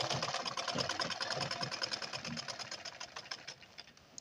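A sewing machine runs in a fast, even stitching rhythm along blouse piping, fairly quiet and close, with a faint voice underneath.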